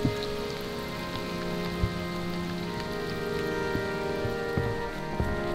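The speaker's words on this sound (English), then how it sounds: "the rain was slowly getting heavier" Steady rain patters on a surface nearby on a hiking trail in Western Australia, a constant dense hiss with occasional louder drips, no voices, the rain growing heavier.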